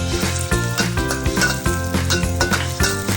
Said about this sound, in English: Stir-fry the pepper and garlic paste in hot oil.